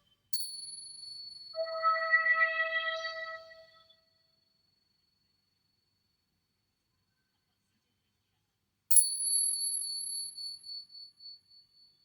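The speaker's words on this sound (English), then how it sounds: "I've got some different chimes here." Chimes ring out in two separate bursts with bright, sustained metallic tones that overlap and fade, separated by several seconds of silence.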